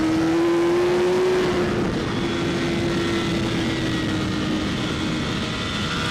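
A racing superbike accelerates hard out of a corner, its engine tone climbing in a loud, sustained drone that settles into a steady high-speed roar, heard close and with no talking.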